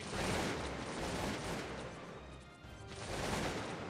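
Massed musket volleys from troops in the Cossacks 2 strategy game: a dense, continuous crackle of gunfire, fairly faint and distant, swelling and easing with no pause.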